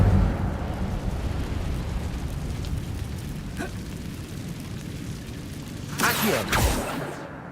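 Incendio fire spell bursting in Hogwarts Legacy, a rumbling eruption-like roar building to bright, crackling whooshes near the end, with faint game ambience beneath.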